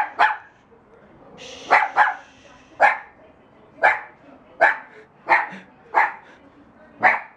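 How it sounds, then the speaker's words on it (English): A dog barks outdoors, about nine sharp, loud barks spaced roughly a second apart, with a brief whine early on and some faint background voice. "You stop barking."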